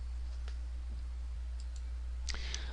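A computer mouse clicks a few times, faint and close, as sparse light ticks over a low steady hum.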